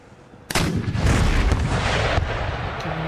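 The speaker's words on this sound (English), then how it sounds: "Another volley's come in." A loud artillery volley in the Empire: Total War battle game, starting with a sharp crack and swelling into a rumbling roll of booms that lingers and fades.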